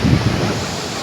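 Sea waves wash onto the beach near Digha and Mandarmani in a loud, continuous rumble with heavy wind buffeting the microphone.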